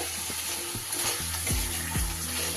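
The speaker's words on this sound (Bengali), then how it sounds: "এবার আমি এর উপরে দিয়ে দেব ভেজে রাখা আলুগুলো।" Fried potatoes tipped into cooked spice masala in a pan for chhanar borar dalna, a steady close sizzle with several dull thuds and stirring scrapes of a spatula against the pan.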